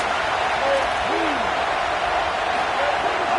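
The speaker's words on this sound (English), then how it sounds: "Listen to this crowd just shaking the girders of this place, trying to help their defense." A stadium crowd roars during a football game, a loud, unbroken wash of noise that fills the whole space and almost drowns a faint voice.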